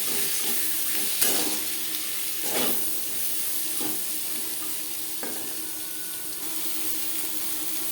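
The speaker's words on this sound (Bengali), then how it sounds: "পেঁয়াজ হালকা করে ভাজা হয়ে গেছে।" Chopped onion fries in oil with a bay leaf in a kadai, making a constant close sizzle. A few soft stirring scrapes and clinks break in now and then, and no one speaks.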